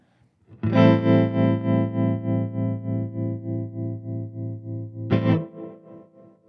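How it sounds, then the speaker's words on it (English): A sustained distorted electric guitar chord rings through a hand-wired Fender tube amp, pulsing rhythmically with tremolo and a reverberant tail, then a second short chord stab. "With the reverb and the tremolo blending on the tail, it's almost a delay effect"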